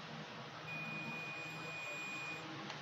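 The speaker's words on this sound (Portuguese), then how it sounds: "vai fazer o bip aí" A multimeter continuity test gives a thin, steady high-pitched beep for about two seconds over faint background hiss, fairly quiet and close.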